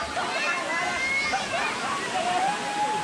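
Kuang Si Falls in Luang Prabang, Laos, a waterfall pouring into pools, heard as a constant loud rushing wash of falling water with faint voices of visitors mixed in.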